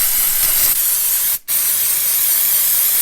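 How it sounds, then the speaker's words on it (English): Waterproofing spray hissing from an aerosol can onto motorcycle gloves, a loud continuous close spray with one brief break partway through, and no talking. "Let's get this spray on"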